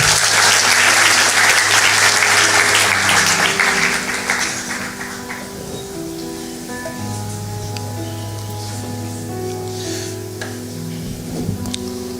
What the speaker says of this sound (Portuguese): Quantos podem aplaudir o Senhor?